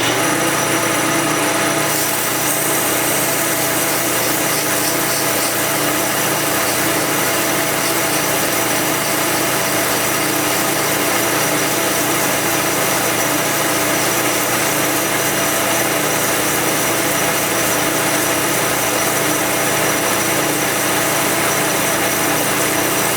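A metal lathe runs steadily while a part is sanded with 80 grit abrasive. A loud, continuous motor whine and broadband hiss hold unchanged throughout with no talk.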